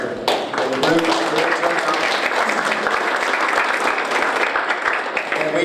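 Applause at a city parks bond committee meeting, a dense, continuous burst of many people clapping close and fairly loud, with some crowd murmur mixed in throughout.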